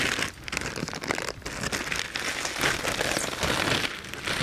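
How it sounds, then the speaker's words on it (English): Plastic packaging crinkles and crackles close up as an item is pulled out of its wrapping, dense irregular rustling throughout with no talking. "if I can get it out of the packaging"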